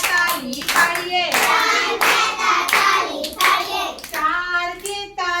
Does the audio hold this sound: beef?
no